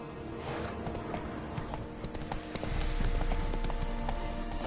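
Roach, the horse in The Witcher 3: Wild Hunt, gallops with rapid, rhythmic hoof clops that grow louder and heavier partway through, set against game ambience.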